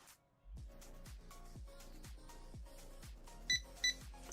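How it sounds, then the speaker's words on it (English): Two short electronic checkout scanner beeps from a supermarket till in Megastore Simulator, near and distinct, over a steady rhythmic music track with a thumping beat. "The beep."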